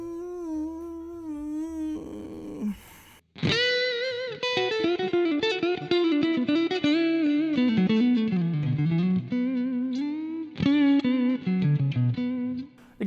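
Yamaha Pacifica electric guitar with a Wilkinson bridge played through compression and distortion, a sustained driven tone with bending, sliding melodic lines after a brief pause, loud and close with no talking.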